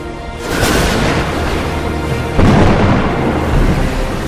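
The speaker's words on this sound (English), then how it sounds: "a sudden violent storm like this one pushed them off course" A violent storm at sea, with loud rolling thunder and rumbling booms building into a sustained roar, surging again midway through and holding heavy and close to the end.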